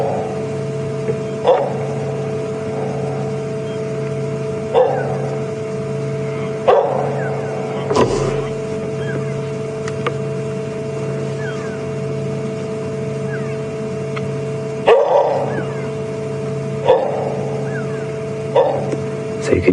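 African wild dog on a safari drive at Djuma Game Reserve, giving repeated short dog-like calls at a few-second intervals, moderately near, over a steady vehicle engine drone.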